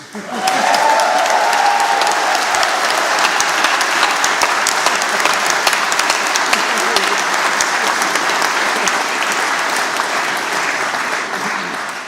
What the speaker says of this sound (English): I'd like to conclude by asking for a little round of applause for the Lionesses